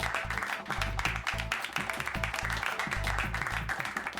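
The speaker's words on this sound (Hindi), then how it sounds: "तालियां तालियां भाई।" An audience claps through a comedy performance, a dense, continuous applause mixed with a rhythmic, thumping beat underneath.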